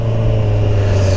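A 2011 Kawasaki ZX-14 motorcycle fitted with a 2.5-inch stainless steel Atalla full exhaust drones loud and steady, a constant low engine tone holding through the short stretch.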